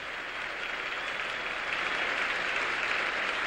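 Large crowd applauding a gymnast's dismount at a 1973 Soviet gymnastics exhibition in Houston, steady dense clapping that swells slightly and holds loud throughout, with no voices over it.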